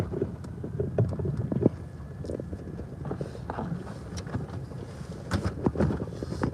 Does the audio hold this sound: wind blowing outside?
yes